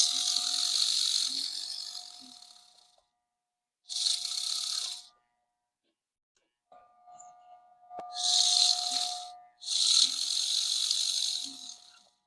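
A Life Like GP 38 model train locomotive motor runs with a buzzing, ratchet-like whir in several bursts of a few seconds each, separated by short pauses. It sounds close and moderately loud.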